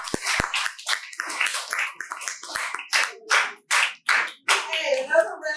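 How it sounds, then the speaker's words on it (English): An audience at a comedy night in a bar and grill breaks into bursts of clapping, with scattered claps and short rounds of applause fading and swelling. Voices and laughter mix in among the hands. "Hey, another round of applause."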